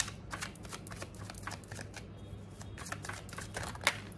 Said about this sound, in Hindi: बहुत सारे कार्ड्स गिर रहे हैं।